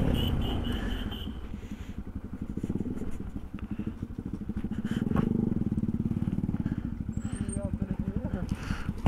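A motorcycle engine with its silencer hanging loose runs with a rough, rapid pulsing throb, close and fairly loud, while people talk over it outdoors at night in the cold.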